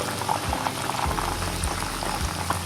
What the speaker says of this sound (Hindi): 1-2 मिनट हम इसको फ्राई करेंगे और फिर इसको निकाल लेंगे